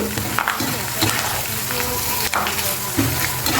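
Lentils (chana dal and urad dal) and curry leaves frying in oil for a coriander pickle, a dense continuous sizzle up close with a few stirring clinks and scrapes.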